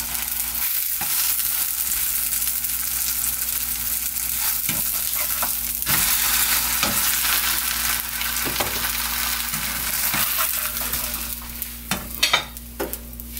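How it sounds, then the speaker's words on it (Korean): Seaweed fulvescens pancake with minced red chili frying in a pan, a continuous soft sizzle and crackle with occasional spatula scrapes and stirring clicks, close and steady. "그렇게 좀 넣고 구워보겠습니다."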